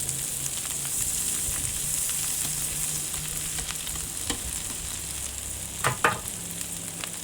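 Butter sizzling and frying in a hot pan while making Chinese five spice duck Cajun fried rice, a steady low crackle throughout with a couple of sharper clatters of a utensil near the end.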